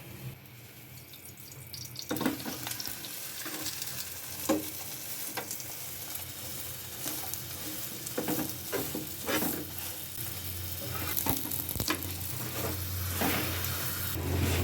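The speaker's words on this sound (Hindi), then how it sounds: "मैं इसके ऊपर लगाती हूँ घी। ये घी मेरा देसी है।" Desi ghee sizzles steadily in a hot pan as it is spread over food, a continuous hiss with scattered sharper scraping and clicking accents throughout, fairly close and with no talking.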